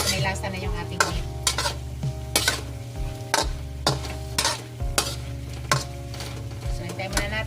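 Pork fries in its own rendering fat in a pan, a steady close sizzle under a low hum, punctuated by regular scraping and clinking strokes as the meat is stirred.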